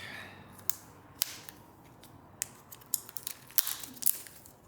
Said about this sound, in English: So take off the plastic.